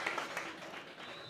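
Home supporters roar and clap at a Blessington v Rathnew senior Gaelic football semi-final, a dense, distant crowd cheer that stays steady for the whole moment.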